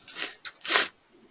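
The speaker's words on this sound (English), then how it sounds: "Sorry, I'm slurping around here." A person slurping three times in quick succession, a short wet suck followed by a longer, louder one, close to the mic in an otherwise quiet room.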